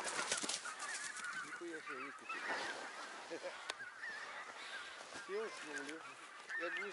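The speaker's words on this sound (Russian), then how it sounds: "и гусь дёру дает" A goose on a goose hunt gives repeated nasal honks, some near and some farther off, scattered through ongoing human talk and outdoor background noise.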